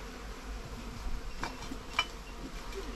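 Honey bees buzz around hive frames during honey collection, a steady close drone with a couple of sharper passes as individual insects fly near.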